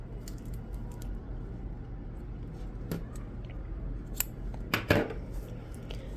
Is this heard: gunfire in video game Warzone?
no